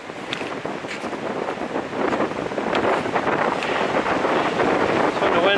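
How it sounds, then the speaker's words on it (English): Strong wind gusts on a mountain trail in the Smokies near Thunderhead, roaring and buffeting the microphone. The noise builds over the few seconds and stays loud and continuous. "When the wind starts blowing like that, if you don't have something on to block it, it's going to cut right through you."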